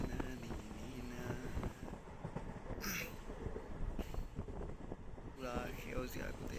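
A train running at full speed, heard from inside as a continuous rumbling roar with rattling wheels and occasional squeals, while a voice speaks under the noise.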